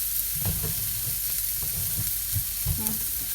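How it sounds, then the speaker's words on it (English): A beef burger sizzles and fries in a pan, a constant bright hiss broken by soft clinks and scrapes of stirring, with no talking over it. "That's going to start sizzling."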